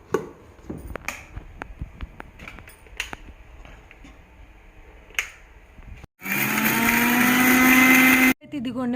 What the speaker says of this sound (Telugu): వీటిని మిక్సీ జార్లో వేసుకొని పౌడర్ పట్టేద్దాం